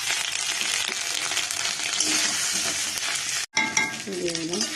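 Spices sizzle and crackle in hot oil for Bengali dal, close and steady, with stirring scrapes throughout. A brief dropout comes near the end, and after it a higher, ringing stir is heard. No voices.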